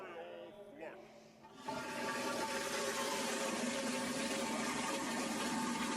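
A toilet flush sound effect, a sudden loud rush of water that keeps churning steadily. Talk comes just before the flush and continues faintly underneath it.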